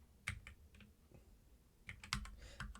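Keys are typed on a computer keyboard as a shortcut is entered: short, close, quiet clusters of crisp clicks, alone without talk.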